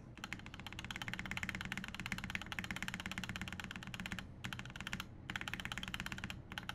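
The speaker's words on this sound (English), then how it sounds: "This is a PBT spacebar." Rapid, steady typing on a Polycarb Think6.5 v2 prototype mechanical keyboard fitted with a PBT spacebar, with dense close keystrokes and two brief pauses.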